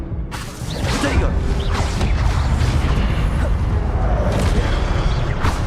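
A Protego shield spell cast in the Hogwarts Legacy video game, a dense magical whoosh with mechanical, crashing texture that swells in after a brief quieter start and holds loud and steady to the end.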